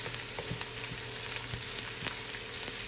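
Butter sizzling in a hot pan with carrots for chicken fried rice, a soft, steady close frying hiss with small pops and faint stirring clicks, no voices.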